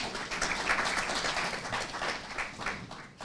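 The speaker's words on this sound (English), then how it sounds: "Please let's give a round of applause to ourselves" Audience applause at a legal conference and mentorship fair, a dense, steady wash of many hands clapping at moderate level, fairly distant and continuous for a few seconds.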